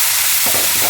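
Potatoes dropped into a hot pan for aloo matar pulao burst into a loud, dense sizzle, a broad hissing fry that swells midway and continues steadily without voices.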